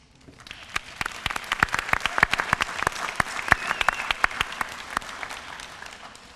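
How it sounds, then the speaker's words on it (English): Audience applause at a summer 2014 graduation ceremony in Arlington ISD: a steady wash of many hands clapping with sharp individual claps standing out, building gradually and holding at moderate loudness in a large hall. "we give you a big round of applause as well."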